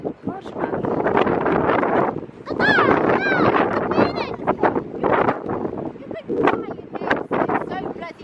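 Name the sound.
strong wind blowing on the microphone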